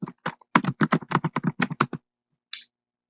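Quick clicking keystrokes on a computer keyboard as an email address is entered, a rapid run of about a dozen close taps, then a pause and one last key press.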